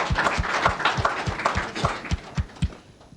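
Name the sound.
applause for His Excellency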